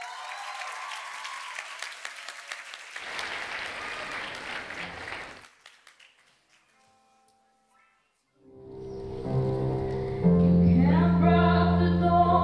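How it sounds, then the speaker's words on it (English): Audience at a school graduation ceremony applauding: a few seconds of steady clapping that fades to near silence, followed by music starting up. "let's do a round of applause first"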